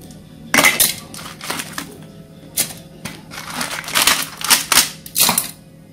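Field crabs are pounded fine in a mortar with a pestle for crab porridge, giving irregular sharp crunching knocks and cracking bursts at close range, with no talking.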